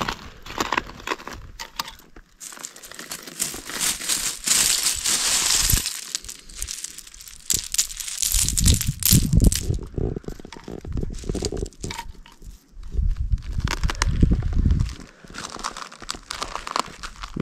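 Crushed shells on a beach with no sand at Fury Cove on Alaska's Inside Passage, crunching and grinding under footsteps close by, in rough repeated bursts with rustling in between.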